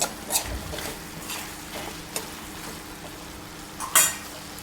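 Paneer butter masala being stirred in a pan: a low, continuous simmering sizzle broken by a few sharp spoon scrapes and clinks against the pan.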